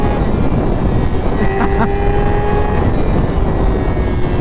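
Yamaha R6 motorcycle engine pulling hard under acceleration, a loud steady drone with whistling intake tones rising through the middle, heard continuously up close throughout.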